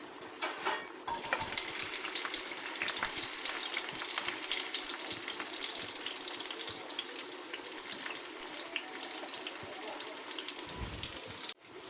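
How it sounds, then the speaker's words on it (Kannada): Onions fry in ghee and oil in a pan, giving a steady, close sizzle that runs nearly unbroken before cutting off at the end. "ಈಗ ಈರುಳ್ಳಿನೂ ಕೂಡ ಸೇರಿಸ್ಕೊಳ್ತಾ ಇದ್ದೀನಿ."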